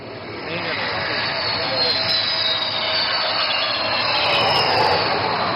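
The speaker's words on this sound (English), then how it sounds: "this twin-engine fighter demands nothing but absolute precision while landing on this highway" A 38-ton Sukhoi twin-engine fighter jet landing on a highway during an air show, a loud sustained jet roar with a high whine that swells steadily throughout.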